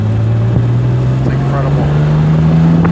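Speedwell sports car engine accelerating with a heavy throttle, a loud, steady drone rising slowly in pitch for a few seconds, close to the listener, with faint voices underneath.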